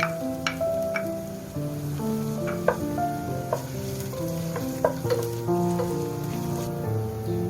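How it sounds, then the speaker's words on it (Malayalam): Finely chopped garlic cloves and a small piece of ginger sauté in hot oil for butter chicken masala, giving a steady sizzle broken by occasional sharp clicks of stirring throughout. "എണ്ണ ചൂടാകുമ്പോൾ 2 അല്ലി വെളുത്തുള്ളിയും ഒരു ചെറിയ കഷ്ണം ഇഞ്ചി ചെറുതായി അരിഞ്ഞ് ചേർത്ത് വഴറ്റാം."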